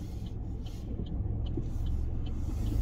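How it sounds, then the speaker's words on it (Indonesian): A Belbus, a small village bus, passes by, heard as a soft, steady engine rumble that builds slightly toward the end, with no talk. "Ini yang tadi lewat itu Belbus namanya"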